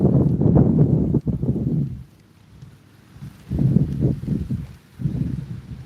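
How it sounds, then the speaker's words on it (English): Strong gusts of wind on open water buffet the microphone outdoors while fishing, in heavy low rumbling bursts, dropping to a quiet lull midway before blasting again. "It is windy as shit out here though."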